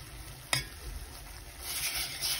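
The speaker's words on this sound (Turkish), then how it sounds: "Tereyağımızı kavuralım." Minced meat browns in butter in a pan with a steady sizzling hiss, a brief scrape of stirring, and frying that swells louder toward the end. No one speaks.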